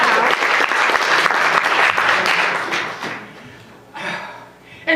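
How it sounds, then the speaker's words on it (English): Audience applause for a man who returned cancer-free, a dense wash of clapping for about three seconds that fades out, followed by a brief smaller burst near the end. "Clap for him."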